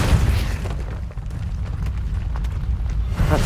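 Depulso force spell in Hogwarts Legacy, heard as deep booming blasts and bursts over continuous low rumbling game noise, with no speech.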